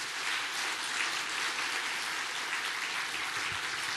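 Steady applause from a church congregation during a worship service, offered in sympathy to a family standing among them; dense, even clapping fills the room without a break, fairly soft and continuous.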